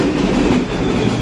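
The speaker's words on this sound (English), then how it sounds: "This train goes to 96th Street." A New York subway train running steadily, a dense rumbling roar with clattering wheel noise throughout, loud and close with no voices.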